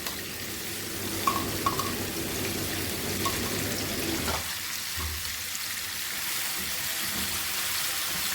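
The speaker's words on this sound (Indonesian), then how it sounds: "Kemudian di sini aku mau tumis ini sambal baladonya." Balado chili sambal sautés in hot oil, a dense continuous sizzle and crackle with stirring scrapes, steady throughout and fairly close.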